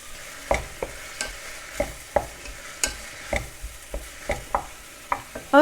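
Fried rice with corn being stir-fried in a pan, with a steady sizzle under repeated sharp scrapes and taps of a utensil at a quick, roughly even rhythm, close and clear, with no talk.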